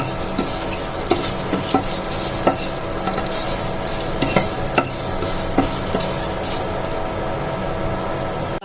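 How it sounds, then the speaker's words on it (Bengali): Dried and green chilies fry and get stirred in a pan, a steady sizzle with scattered scraping clicks of the spatula throughout, close and fairly loud, no talking. "ভাজা হয়ে গেছে এখন নামিয়ে নিব"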